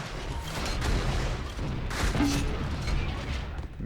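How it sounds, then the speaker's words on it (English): Sniper rifle shots exchanged during a duel in a competitive first-person shooter, with sharp cracks and rumbling booms layered over constant dense game noise and mechanical clatter. "Both exchange the same amount of damage with a sniper rifle."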